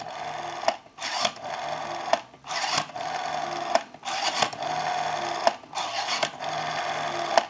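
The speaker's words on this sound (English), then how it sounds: "We have a nice smooth return on our rotary dial now." A Princess rotary dial telephone being dialed after repair, each number giving a smooth whirring return of the dial broken by short clicks, repeated several times in steady succession, close and clear.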